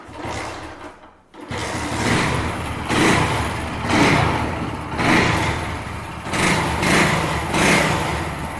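A 1990s four-stroke motorcycle engine fires up after a brief silence and settles into a steady, pulsing idle with a regular beat, close and loud, with no talking.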